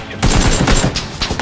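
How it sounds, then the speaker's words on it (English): Gunfire in the battle game PUBG, a dense burst of rapid shots and a fusillade that kicks in suddenly after a quiet start and keeps going loud and close, with a couple of sharper cracks near the end. "Oh, no, oh, we're getting shot at!"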